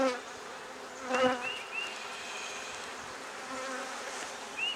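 Honeybees buzz steadily at an open hive during brood inspection, a dense close insect drone with several louder individual bees passing near, no talking.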